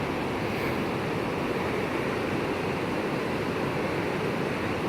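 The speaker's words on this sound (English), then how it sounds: "It said it has a good view of a large cascade," A large cascade waterfall on Lynn Camp Prong in the Smoky Mountains makes a loud, continuous broadband rush of falling water with no breaks and no voices.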